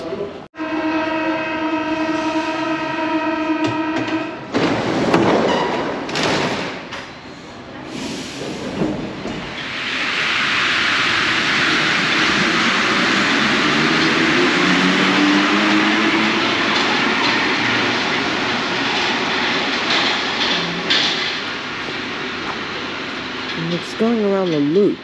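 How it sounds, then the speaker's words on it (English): A Paris metro train at Nation station sounds a rising multi-tone chime, then doors thud and the train rumbles and whines loudly as it pulls away from the platform, with a pitch-shifting motor whine near the end. "And the next train will depart from this platform."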